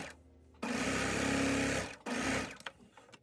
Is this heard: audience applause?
no